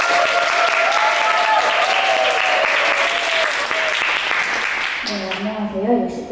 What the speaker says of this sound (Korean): 박수로 한번 모셔보겠습니다.